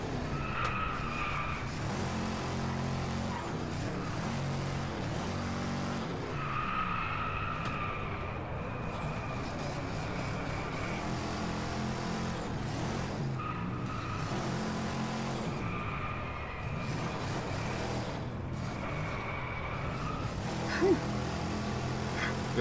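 A race car tears through DriveClub corners with repeated tire squeals and skids over a steady, loud engine drone, the screeches rising and fading throughout.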